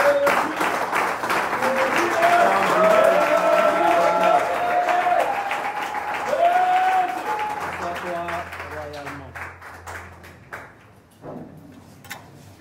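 A church congregation claps and cheers in a French-language worship service, a sustained wash of applause that stays loud for several seconds, then thins and fades toward the end while voices and music carry on underneath.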